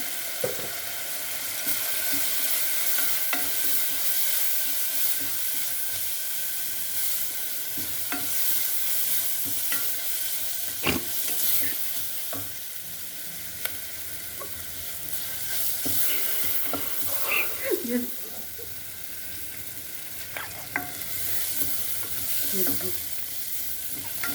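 Spices with turmeric fry and sizzle steadily in a pan while being stirred for gokarakaya curry, with occasional scraping clinks over a continuous close sizzle.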